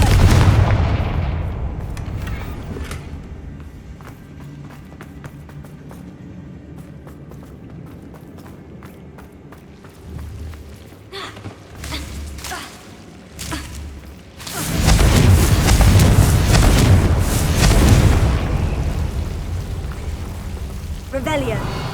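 A Confringo blasting curse goes off as a loud, broadband explosive burst with a sustained rumbling roar through the later part, preceded by a few smaller cracks and booms amid background sound.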